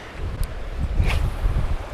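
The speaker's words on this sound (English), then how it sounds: "That's windy." Steady low rumble of wind buffeting outdoors by a raging waterfall, a constant gusty roar with no voices.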